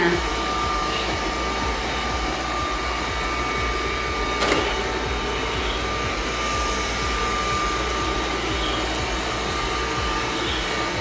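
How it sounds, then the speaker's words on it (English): A vacuum cleaner runs continuously with a steady, droning roar, close and fairly loud, with a faint voice speaking beneath it. "Vacuum that floor."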